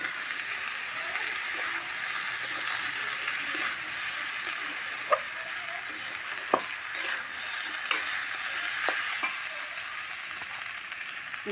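Ginger, cumin and chili paste fries with softened potatoes in a pan, a steady hiss of sizzling oil broken by a few sharp spoon clicks against the pan, close and with no voices.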